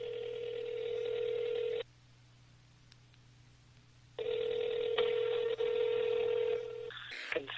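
A phone line carries long ringback tones separated by a pause, with a faint electrical hum beneath, ending in a brief click as a call connects; close and clear, no talking.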